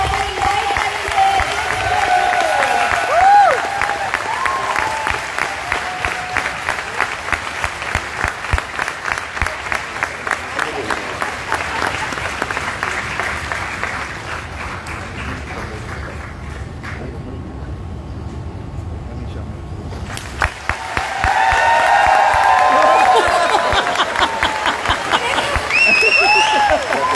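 Loud, dense applause from an audience welcoming guests at the Pehchan event in Vadodara, continuous clapping that thins briefly before swelling again, with voices mixed in.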